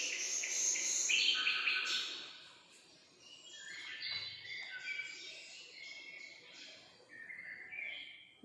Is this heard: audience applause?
no